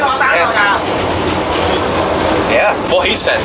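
A sleeper train running in southeast Asia, with a steady loud rumble and clickety-clack of the railcars throughout while people talk briefly over it.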